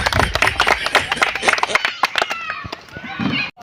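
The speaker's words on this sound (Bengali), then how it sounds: "একবার জোরে হাততালি দেন খতিবি আলমের জন্য" An audience at an outdoor stage event claps loudly for a speaker in dense, irregular bursts of hand claps with crowd noise, thinning out toward the end.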